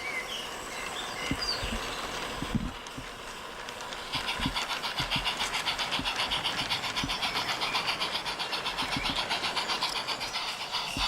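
A steam locomotive pulling an empty sand train on a light railway rumbles steadily past with rhythmic rail clatter and occasional heavy thumps, growing denser and louder midway through, with no voices.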